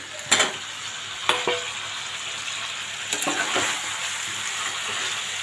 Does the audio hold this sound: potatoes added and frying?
yes